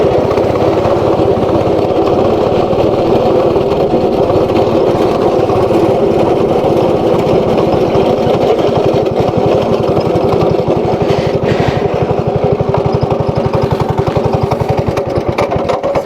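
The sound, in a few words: ATV engine running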